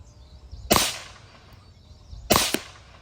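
Two sharp, loud rifle shots from a .223 fired at a target outdoors, spaced about a second and a half apart, each a crisp crack with a short ringing tail.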